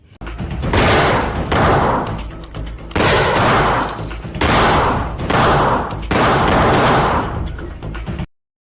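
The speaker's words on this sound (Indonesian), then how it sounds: "Lalu baku tembak pun terjadi." Loud bursts of gunfire in a film shootout, heavy and sustained in several long volleys with short gaps, close and dominant until an abrupt stop.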